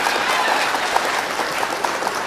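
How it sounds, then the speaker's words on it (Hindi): An audience at an All India Mushaira poetry gathering applauds. The clapping is steady and dense throughout, filling the hall with a continuous wash of many hands and no voices on top. "आप ताली बजा दीजिए"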